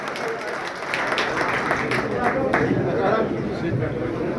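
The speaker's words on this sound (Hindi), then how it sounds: "जोरदार तालियों के साथ उनका स्वागत करूं।" A crowd at a BJP membership drive event claps steadily to welcome an MP's son, dense sustained applause with scattered voices and chatter mixed in.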